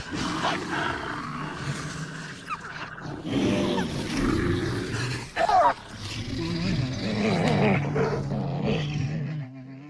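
Wolves snarl and growl as a pack corners a bear in the Bear Island VR game, with growls, roars and a sharp yelp rising and falling over a steady rumbling backdrop.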